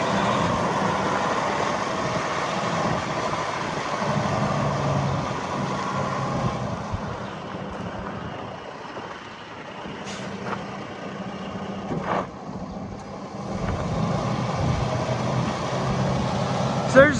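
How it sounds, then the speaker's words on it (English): A 2017 Western Star 4700 day cab truck idles and runs nearby with a low diesel rumble that dips and swells, a few sharp clicks and hisses breaking in, while someone talks intermittently over it. "real good sounding truck"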